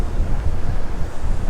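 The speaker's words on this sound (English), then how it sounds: "It's obviously very, very windy." Strong wind at the coast of Santa Ponsa, Mallorca, roars and buffets the microphone in a continuous low rumble, with the surf of a rough sea churning beneath it and no voices.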